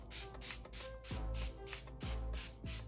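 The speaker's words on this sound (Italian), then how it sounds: "Giro di setting spray, questo qui di Essence" An Essence makeup setting spray is misted onto a face in a quick series of short, rhythmic hissing spritzes, about nine close bursts in a row with no talk over them.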